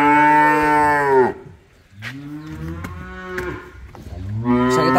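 Cattle in a pen moo loudly and close, several long, deep bellows from more than one animal, with short pauses between calls.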